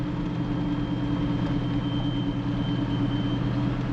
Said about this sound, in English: The alternator's whining